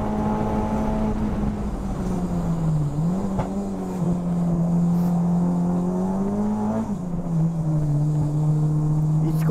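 An HRC Honda Civic Type R race car corners on a track at high engine revs, a loud sustained tone that dips and climbs with gear and throttle changes, heard from inside the car.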